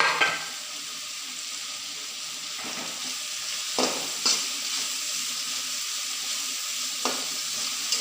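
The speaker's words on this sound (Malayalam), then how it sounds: "ഇനി എല്ലാം കൂടി ഒന്ന് വഴന്ന് വരുന്നവരെ ഇളക്കി കൊടുക്കുക" Ginger, green chilli and curry leaves fry in a pan with a steady, close sizzle, broken by a few sharp clicks and scrapes of stirring.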